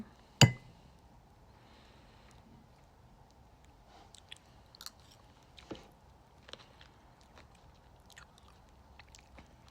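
Blueberries being chewed close up, a sharp bite at the start followed by soft, sporadic wet munching and small clicks in a quiet room, with no talking.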